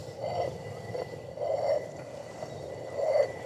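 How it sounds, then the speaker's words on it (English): Stone rotary quern turned by hand to grind barley grain, a low gritty rumbling grind repeating in three slow rotations, quiet and close with no voices. "A rotary quern like this"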